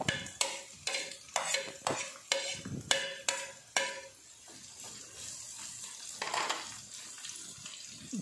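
Garlic and onion sautéing in hot oil for a Filipino beef papaitan, with a run of sharp, regular utensil clacks against the pan for the first few seconds, then a steadier close sizzle and scraping.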